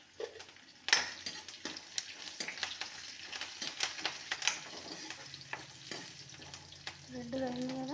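Onion and curry leaves sizzle and fry in a pan for a Telugu ridge gourd chutney, with a steady crackle broken by spoon stirs and utensil clinks, close up and no talk.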